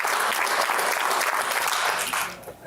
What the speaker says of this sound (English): if you can hear my voice, clap 7 times